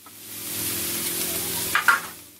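Minced onion and garlic with chopped ingredients and salt and pepper sautéing in a pan for sopas, a steady close sizzle with stirring, a couple of louder scrapes near the end.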